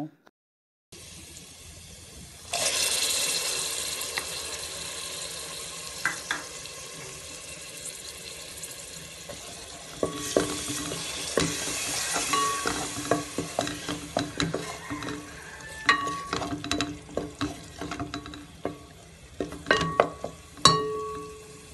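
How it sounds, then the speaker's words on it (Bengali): Garlic cloves fry with spices in hot oil for a Bengali shing fish curry, a steady close sizzle with frequent stirring clatters that grow busier and louder toward the end. "এবার মশলার সঙ্গে এগুলোকে আরও কিছুক্ষণ সময় ভেজে নিব।"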